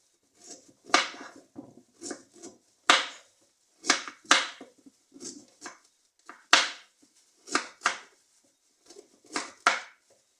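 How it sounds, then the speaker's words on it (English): Knife cutting through peeled sweet potato on a board, a series of crisp, close thuds in an uneven rhythm with short pauses, nothing else audible. "I will just slice my potato this size"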